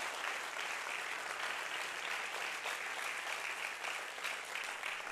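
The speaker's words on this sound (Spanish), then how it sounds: "Alguien tiene aplausos para Jesús en esta hora con libertad." A church congregation claps together in steady, continuous applause, a full wash of many hands that fills the room from start to finish.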